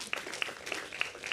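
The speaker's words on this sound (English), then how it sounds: "please give him a big round of applause" An academic research carnival audience giving scattered applause for a panel moderator: a handful of sharp, separate hand claps at an uneven pace, fairly close, over a low room murmur.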